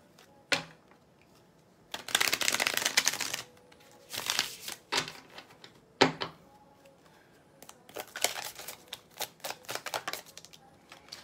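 A Vice Versa tarot deck being shuffled by hand, close-up bursts of riffling and flicking cards in uneven clusters separated by short pauses, with a few sharp taps between them.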